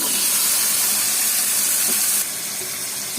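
Onions and potatoes going into a hot pan give a loud, continuous hiss of frying that eases off slightly partway through.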